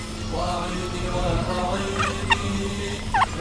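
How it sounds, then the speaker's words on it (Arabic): A fowl calls in several drawn-out, wavering notes, gobble-like, over a murmur of background talk and room noise, followed by a few sharp higher chirps near the end. "جماعة ديك قدامهم عجيب ما شاء الله."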